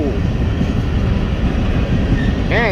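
A BNSF freight train with a Canadian National engine passes close by at Palmer Lake, Colorado, wheels rolling in a loud continuous rumble, ending with a rising wheel squeal. Voices are faintly audible underneath.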